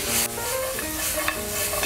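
Anchovies stir-fried with soy sauce and maple syrup being mixed in a hot pan, a dense crackling sizzle with a couple of quick stirring scrapes, close and steady, no speech.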